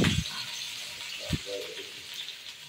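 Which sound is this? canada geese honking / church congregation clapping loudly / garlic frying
garlic frying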